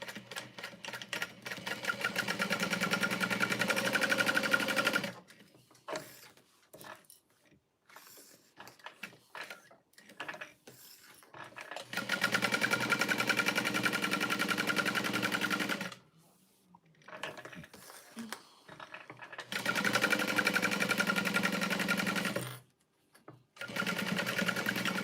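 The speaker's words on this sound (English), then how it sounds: "sewing this shut" Sewing machine stitching custom orders in rapid mechanical bursts, three long runs of fast needle clatter separated by quiet pauses with small handling clicks, close and clear.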